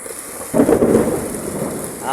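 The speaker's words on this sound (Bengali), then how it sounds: "আর সেই বৃষ্টিতে এই যে শিল পড়তেছে, শিলা বৃষ্টি হচ্ছে আজকে তাইবে অনেক দিন পর" A heavy hailstorm with rain and thunder over Taif, Saudi Arabia: a steady wash of rain, then a loud low rumble of thunder that swells suddenly and lingers.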